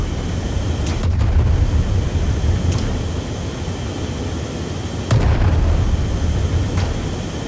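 In the game Worlds Adrift, an airship's front cannon fires a handful of sharp, booming shots at irregular intervals over a loud, constant engine and wind drone, with no voices.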